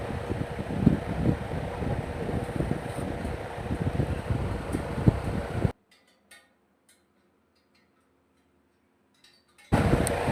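An air cooler runs in hot weather while someone works nearby, giving a steady, loud broadband whoosh that cuts out abruptly for several seconds and then starts again.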